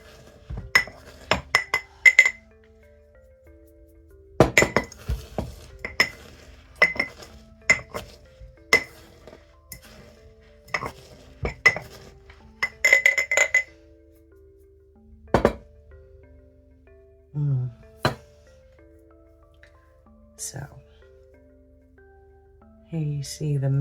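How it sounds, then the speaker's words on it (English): Herbs crushed with a mortar and pestle, a series of sharp ringing knocks and grinding clinks in irregular bursts, close and clear against near silence, with a few brief voiced sounds toward the end. "on my pestle, I'm gonna crush some of this up and get it a little bit finer"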